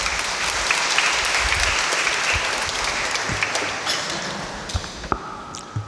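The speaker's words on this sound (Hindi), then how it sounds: "हम ज़ोरदार तालियों से फादर का अभिनंदन करें।" Church congregation applauding a priest, a loud crowd of clapping that fades over a few seconds, leaving scattered individual claps and small knocks at the end.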